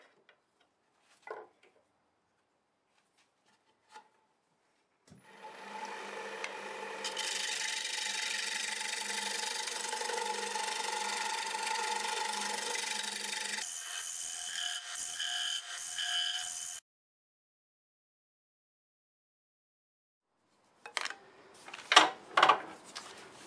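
A negative rake scraper works the surface of a segmented ripple wood-turned bowl on a lathe, giving about twelve seconds of steady scraping hiss, close and moderately loud, between quiet stretches with a few knocks and handling clatters.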